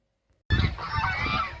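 After a short silence, a loud burst of geese honking starts abruptly and continues as an overlapping, noisy chorus close by.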